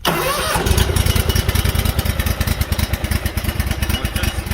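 A Scag Liberty riding mower engine cranks and catches at once, then settles into a loud, rapid, pulsing idle close by.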